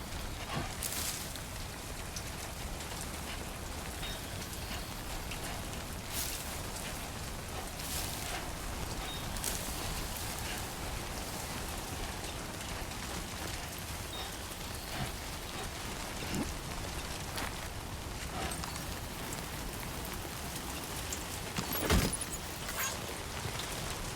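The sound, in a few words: timefall rain falling, video game Death Stranding 2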